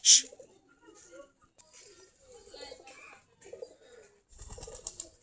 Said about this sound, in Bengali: কবুতরগুলা বিকালবেলা খাবার খাচ্ছে।